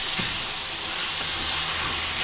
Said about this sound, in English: let's bung in the tomatoes. Chopped tomatoes, a tin of chopped tomatoes.